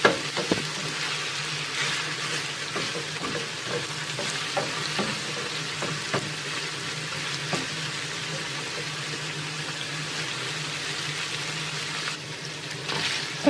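Chicken fries steadily in a pan with a constant sizzle, broken by repeated clinks and scrapes as a spoon stirs it, close and fairly loud without talk.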